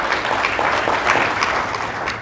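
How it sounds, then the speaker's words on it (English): Conference crowd at an occupational safety and health gathering breaks into applause, a loud, dense, continuous clatter of many hands filling the room without letup. "I think that deserves a round of applause"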